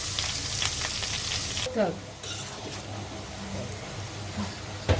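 Chopped onion and garlic sizzle steadily in a hot pan, with brief scraping as they are stirred.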